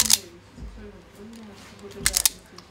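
Insulation stripped off electrical wire with a hand tool while wiring power for Arduino-driven neopixel strips, heard as a few sharp, close clicks and snips, one early and a cluster near the end, with quiet gaps between.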